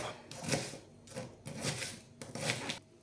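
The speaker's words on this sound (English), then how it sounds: "Cut it down like that, cut it in the middle, and finally chop." Three rhythmic bursts of a knife chopping a red onion on a board, each a crunchy, rasping stroke spaced about a second apart, close and fairly quiet with no talk.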